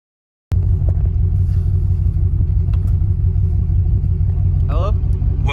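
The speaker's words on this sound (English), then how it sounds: "I can't hear you because of all the traffic." Steady traffic rumble from cars on a road, loud and continuous, with engine drone filling the low end throughout and a brief higher whine near the end.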